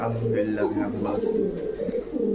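Pigeons coo in low, soft murmurs close by, with a person talking over them.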